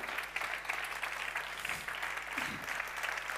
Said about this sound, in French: Applaudissements s'il vous plaît pour Saad,